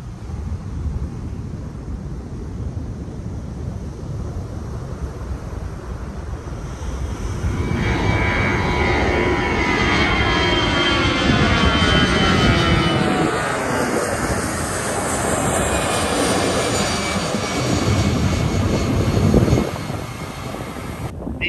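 A jet airplane roars as it takes off from a runway nearby in Phuket, Thailand, the engine noise swelling loudly and holding strong, then easing off at the end.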